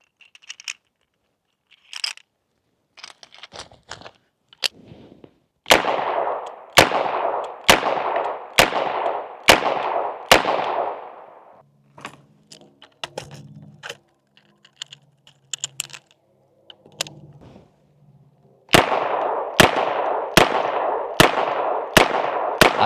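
A Smith & Wesson 586 revolver fires in two bursts of about six loud, sharp shots each at a steady pace, with clicks and handling noises in between.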